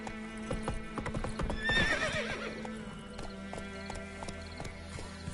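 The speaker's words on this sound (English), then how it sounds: "Whoa there, Roach." Horse in The Witcher 3 video game, its hooves clip-clopping in a steady run close by, with a brief whinny rising near the middle over a background game soundtrack.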